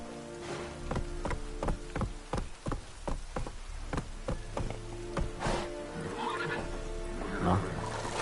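A horse in the video game The Witcher 3 trots with rhythmic hoof-like beats and gives a whinny near the end, while a person talks over the game sounds.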